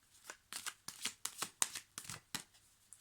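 Tarot cards shuffled by hand in a series of crisp riffling bursts, about eight quick rustling pulses at close range in an otherwise quiet room, with no talking.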